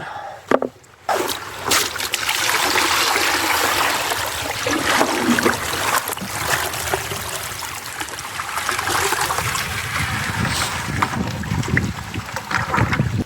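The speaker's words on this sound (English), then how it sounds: "got the Garrett Super Sluice. Let's empty this bucket." Gravel and water from a bucket are tipped into a Garrett Super Sluice while prospecting for glacial gold in Pennsylvania, giving a close, continuous wash of pouring and splashing water with a few knocks at the start.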